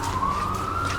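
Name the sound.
sirens in Vancouver Chinatown street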